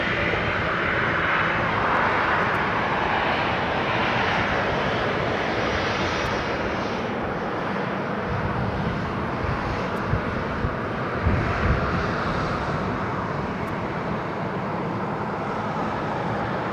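Ryanair airliner engines lining up for takeoff at Leeds Bradford Airport, a loud continuous jet roar heard from outside that holds steady throughout with no talk.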